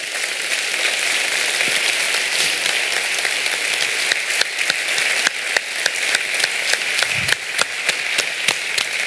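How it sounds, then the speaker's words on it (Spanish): Conference audience giving a big round of applause for young innovators, a dense, continuous patter of many hands clapping with a few sharper individual claps standing out near the end. "pido un gran aplauso"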